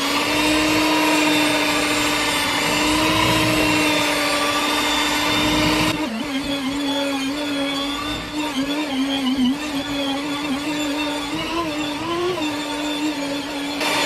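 An electric mixer kneads donut dough in a bowl, a loud, steady motor whine close by that shifts pitch and wobbles slightly partway through as the load changes.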